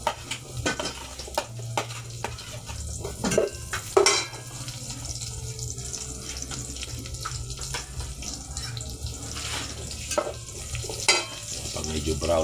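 Garlic and onion sizzle and get stirred in a pan for chicken tinola, with soft frying crackle, scraping of a utensil and occasional clatter, fairly quiet with no talking.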